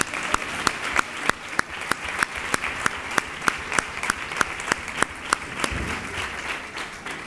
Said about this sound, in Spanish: Un aplauso por ellos